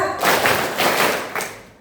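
Students at SMAN 1 Kota Serang clap together in a patterned group rhythm, the fourth clap type, a cluster of sharp, loud claps in a few quick bursts nearby, with no talking.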